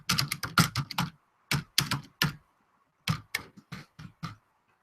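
Fingers tap a computer keyboard in quick, uneven clusters of crisp clicks separated by short pauses, close and clear in a quiet room with no voices.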